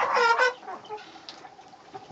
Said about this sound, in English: Yep, that's a hen.